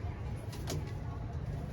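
Male pigeons in a rooftop loft give a faint, brief coo over a low background rumble.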